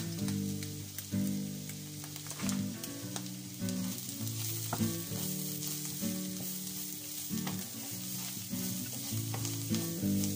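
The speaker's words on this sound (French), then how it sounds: "on va rajouter de la farine pour faire revenir tout ça pendant 2 minutes" Onions and flour sauté in a pan for a vegan Poitou-style beetroot dish, sizzling steadily with repeated scraping stirs, moderately close and without talk.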